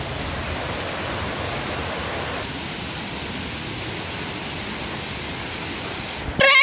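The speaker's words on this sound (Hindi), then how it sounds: "रास्ते में हमको ये वाटरफॉल दिख गया तो हम रुक गए थोड़ी देर के लिए।" A waterfall in Chiang Mai, Thailand gives a steady, broadband rushing roar that holds even and unbroken throughout, with a brief louder bump at the very end.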